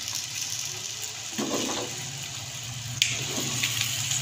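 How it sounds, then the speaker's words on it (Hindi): Potato chips frying in hot oil: a steady sizzling hiss throughout, with a louder bubbling surge as the sliced potatoes go in, close and without talk. "ऑयल हमारा गर्म हो गया, जो आलू हमने काटे हैं वो हम ऑयल के अंदर डाल देंगे।"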